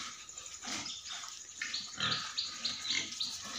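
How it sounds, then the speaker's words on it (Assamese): A group of pigs, including a large sow and several piglets, grunting and snuffling continuously at close range, with overlapping rough grunts and occasional higher squeals. "মোৰ গাহৰি পোৱালিখিনি, গাহৰিকেইটা"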